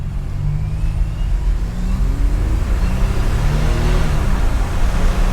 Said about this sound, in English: So I'm gonna roll into the throttle here.